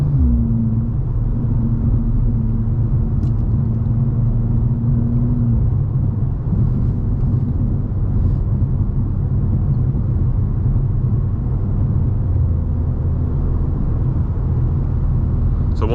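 A BMW M2 G87 cruises through Vegas, its exhaust heard from inside the cabin as a steady, heavy low rumble with a droning engine note that rises and settles over the whole stretch, with no talking.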